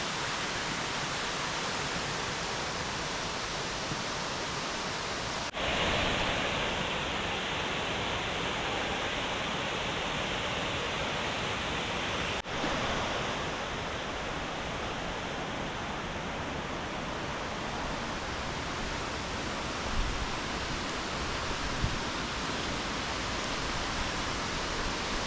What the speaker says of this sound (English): Two tiers to this waterfall.